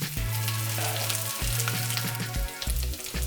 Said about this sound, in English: I have my pot on the fire right there, and we're going to go ahead and put those meats in.